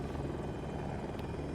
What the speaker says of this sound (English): What's with these helicopters?